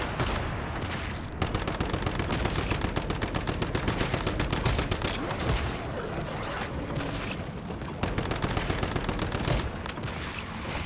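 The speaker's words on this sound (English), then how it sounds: "Please stop shooting me." Rapid automatic gunfire in the survival shooter Once Human, sustained bursts of rattling shots broken by short pauses, loud and close, with no talk over it.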